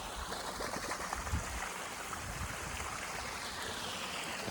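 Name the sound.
water flowing from a 2-inch pipe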